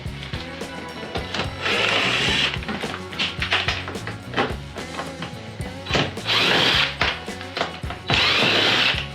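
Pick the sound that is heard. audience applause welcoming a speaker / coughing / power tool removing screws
power tool removing screws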